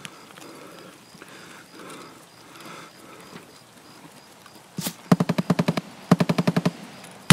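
Two loud, rapid bursts of automatic gunfire ring out in Escape From Tarkov after a quiet stretch, each a string of sharp, evenly spaced shots, preceded by a single crack.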